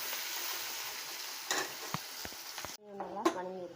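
Small onions and curry leaves sautéing in hot oil for a chicken curry, with a steady close sizzle. Spoon scrapes sound through the first part, then the frying quiets and gives way to brief sounds near the end.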